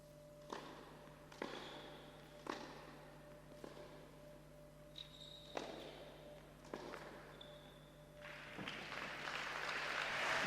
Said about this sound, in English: earns the applause from all areas, including her opponent